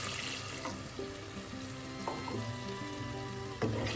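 Bubbling sizzle as water is added to a simmering small sardine chilli curry, with soft clinks and stirring noises underneath; no one speaks.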